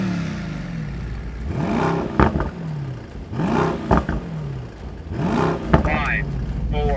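A Mercedes AMG GT engine revs in repeated bursts, three rising surges with rough exhaust crackle between them, fairly close and loud, with a voice talking over parts of it.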